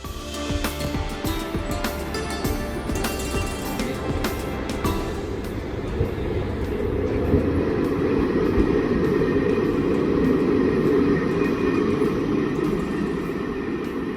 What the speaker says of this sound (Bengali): চক্রধরপুর এক্সপ্রেস হাওড়া থেকে বিষ্ণুপুর পর্যন্ত তার দুশো কিলোমিটারের জার্নি শেষ করলো